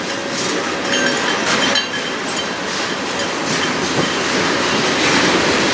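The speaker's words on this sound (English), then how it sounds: "long train." A long, slow CN manifest freight train hauled by locomotives CN 3280 and CN 3128 rolls past on the Strathroy Subdivision on a cold day, with a steady loud roar of wagons and continuous clickety-clack of wheels over rail joints.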